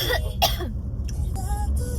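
A couple of short, rough coughs or throat-clearing bursts close by, with quiet background noise between them.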